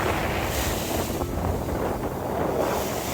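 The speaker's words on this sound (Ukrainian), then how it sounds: "Ви чуєте, який сьогодні вітер?" Strong wind roars and buffets steadily for a few seconds on the Odesa seashore, with a faint wash of surf underneath and no voices.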